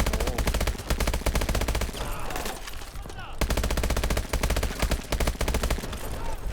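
Gunfire in the video game Call of Duty: Advanced Warfare: rapid, loud bursts of automatic shots in long strings with a short break in the middle, no talking.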